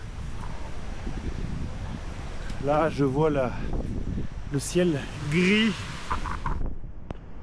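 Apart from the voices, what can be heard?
strong wind on a mountain trail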